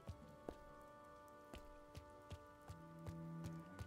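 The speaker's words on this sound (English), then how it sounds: "And it's raining." Rain falls in the video game Chants of Sennaar: a soft, steady patter with distinct drip-like taps every half second or so, over a quiet, sustained musical drone.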